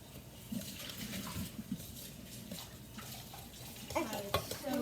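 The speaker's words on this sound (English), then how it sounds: "with your whisk again, just whisk it until combined" Butter being whisked by hand into a sugar mixture in a bowl, a steady wet stirring and scraping with brief brighter clinks near the end, close and moderately loud.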